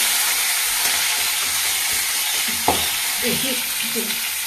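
Nigella seeds, whole garlic cloves and whole green chillies fry in hot oil with a constant close sizzle, and a sharp clack partway through is followed by a few light knocks against the pan.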